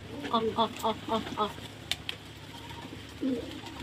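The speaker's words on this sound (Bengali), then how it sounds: "প্রতিটা পায়রা দেখুন একদম ফ্রেশ" Pigeons kept at home coo in a quick run of soft, close calls, followed by a single later coo over a quiet background.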